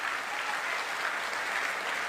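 Steady, dense applause from an audience honoring the managing director of Sleepius Wellness, continuous clapping at an even, fairly loud level throughout.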